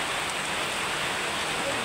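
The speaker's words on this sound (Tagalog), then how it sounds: "Lakas ng ulan down there." Heavy rain pours down steadily outdoors, a loud, dense, unbroken hiss that fills the whole short stretch.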